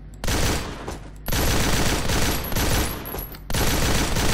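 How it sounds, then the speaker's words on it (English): Video game weapon fire comes as loud, dense automatic bursts up close: three long sustained volleys separated by brief gaps, with no talk over them. "Fire your weapon without aiming while taking cover"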